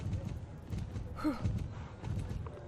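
A horse in the Star Stable video game jogs, its hooves clip-clopping in a quick, light rhythm at close range. A soft breathy sound comes partway through.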